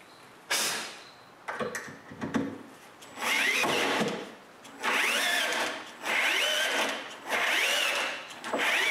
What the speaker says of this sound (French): Pour le fixer en place, je perce des trous dans les rails d'aluminium